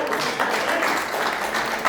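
Steady applause from a church congregation fills the whole moment, a dense patter of many hands clapping at even loudness with no pauses.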